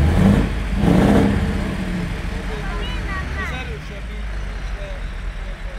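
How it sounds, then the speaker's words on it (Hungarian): A converted convertible Scania T500 truck fitted with a 16-litre V8 marine engine with reduced compression rumbles at a Scania open day in Budapest, with a low engine drone beneath someone talking and crowd noise. "A vörös kamion, a kabrió eredetileg egy Scania T500-as volt, azt építették át, egy 16 literes V8-as tengeri motorja van"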